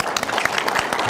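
A lecture audience at a talk on Indigenous and scientific knowledge applauds, a dense steady patter of many hands filling the whole moment without a break.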